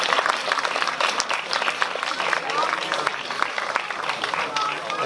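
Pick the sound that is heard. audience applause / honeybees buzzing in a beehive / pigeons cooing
audience applause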